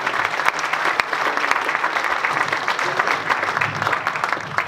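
A conference audience at a JFK assassination event gives sustained, dense applause, the clapping loud and steady from start to finish with no speech over it.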